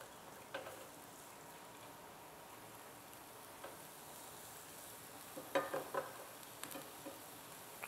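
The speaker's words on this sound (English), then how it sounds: "on va laisser le bacon et les oignons cuire un peu" Bacon and onions frying in a pan, a soft steady sizzle with scattered pops and light clicks of stirring, faint and close.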